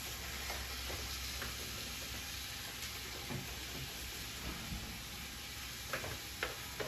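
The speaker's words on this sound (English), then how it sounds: "we're gonna let this right here fry, do its little thingy thing" Ground beef frying in olive oil for a Philly cheesesteak gives a continuous close sizzle and crackle, with a few sharp pops and stirring clicks scattered through, no voices.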